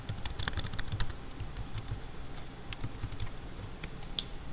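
Steady, rapid clicking of a computer keyboard while typing Java code, heard close and continuous, with no one talking.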